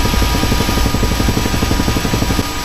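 A helicopter in the military game Arma 3 flies with a loud, continuous rotor chop, rapid even pulses over a droning engine hum that stays steady throughout, with no voices.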